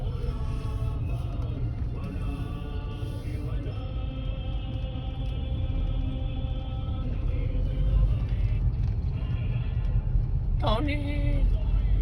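Road traffic in Antipolo, with cars passing in a steady, continuous low rumble that fills the whole stretch, and voices and other sounds layered over it.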